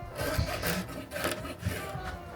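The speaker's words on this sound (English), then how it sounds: "you do have to sort of use a sawing action" A serrated knife saws back and forth through a carrot, producing repeated raspy rubbing strokes close up.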